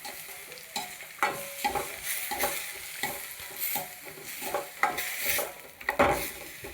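Ground masala paste frying and being stirred in a pan for masala chitranna with ash gourd and vegetables, a soft sizzle under repeated scraping strokes, close and moderate in level, no voices.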